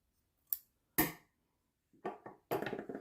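Scissors snipping excess yarn from a knit hat, a few sharp isolated clicks and snips close by in an otherwise quiet space.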